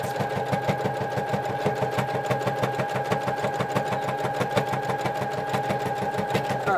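A sewing machine runs steadily while stitching fleece fabric for a hat, its fast needle chatter and motor hum close and continuous throughout, with no pause.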